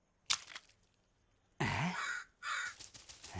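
A crow caws in three harsh bursts: a short one first, then a longer, louder call, then another after a brief pause. The calls are close and clear, with no talk.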